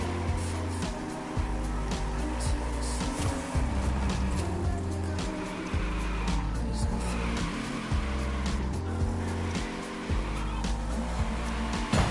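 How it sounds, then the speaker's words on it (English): A 1967 Fastback drifts in The Crew racing game, its engine droning steadily with tire squeal woven through a dense, continuous mix of road and motor noise that stays loud throughout. "Little sloppy drifting, but we drifting."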